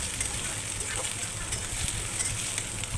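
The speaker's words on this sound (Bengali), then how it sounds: "আমি কিছুক্ষণ তেলের মধ্যে পেঁয়াজ আর আলুটা ভেজে নিচ্ছি" Onion and potato frying in oil in a pan, an even, continuous sizzle with faint stirring scrapes, close and steady with no talking.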